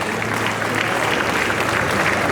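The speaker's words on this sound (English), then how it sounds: "Another round of applause for Brother" A conference crowd at a 2024 bar association event gives a round of applause, a dense, loud wash of clapping that holds steady from start to finish with no voices above it.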